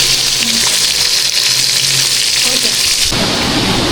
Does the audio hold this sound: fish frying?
yes